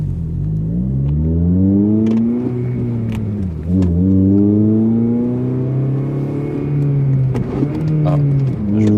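A red Honda Civic Type R FN2 pulls away from a stop and accelerates hard, the engine note climbing in pitch through successive gears with brief dips at each shift, close and loud with no talking.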